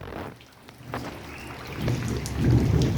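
Thunder rolls low and builds during a rainstorm, with rain pattering steadily on surfaces throughout and the rumble swelling louder toward the end.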